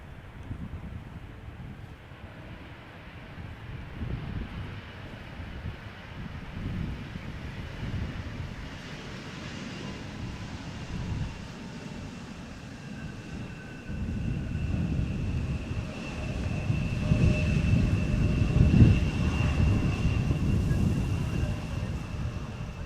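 A KLM airliner arriving at Amsterdam Schiphol, its steady low jet roar rising and swelling toward the end with a faint high whine, wind buffeting the microphone, no talk.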